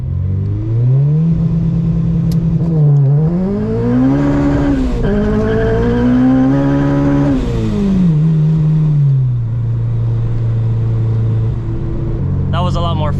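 A supercharged Acura RSX tuned to 350 wheel horsepower accelerates hard through its gears on a 0-60 mph run, loud engine revs climbing and dropping with each shift before settling into a steady drone.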